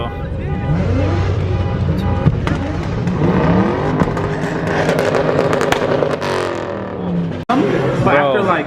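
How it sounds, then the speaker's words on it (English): A Corvette C7 Z06 and a single-turbo Nissan 350Z rev hard at a car meet, with engine notes sweeping up and down in repeated loud pulls. Voices talk over the engines. "Now the revving begins, bro."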